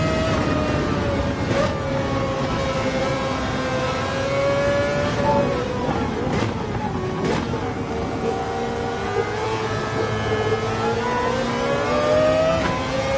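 Racing cars in an Xbox racing video game, their engines droning and revving continuously with rising and falling pitch as they speed along, loud and unbroken throughout.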